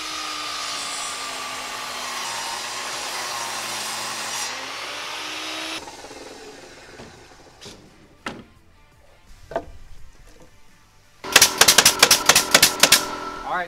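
A long piece of wood trim being ripped in half with a power saw: a steady loud whining cut, then scattered knocks and clatter, ending in a fast rattling burst of sharp taps.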